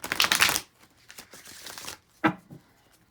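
Oracle cards are shuffled close up: a loud riffling burst, then softer rustling and papery handling, and a final sharp slap of the deck, with no talk.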